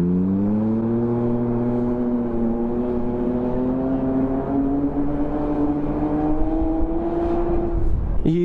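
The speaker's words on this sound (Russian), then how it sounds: "по звуку, я думаю, все поняли, что это заряженный автомобиль" A tuned race car at an ice race in Karpinsk roars loudly and steadily for about eight seconds, its engine note rising slowly as it speeds close past, ending with a sharp burst.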